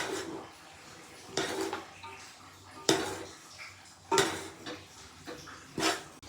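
Cooked rice being mixed in a pan for chitranna, a spoon scraping and knocking against the metal in irregular strokes every second or so, close but fairly soft, with no talking.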